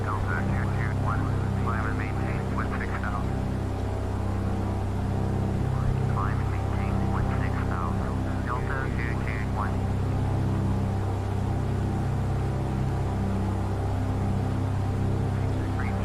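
A steady, droning Cessna plane engine from a flight simulator game hums continuously and evenly, with a voice talking intermittently over it.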